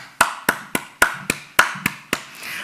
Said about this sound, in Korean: 하나님께 감사와 영광의 박수를 드립니다.